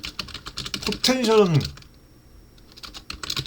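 Quick clicks of typing on a computer keyboard run throughout, briefly overlapped by someone speaking in the middle.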